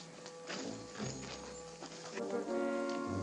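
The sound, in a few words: horses moving out of a barn, hooves clopping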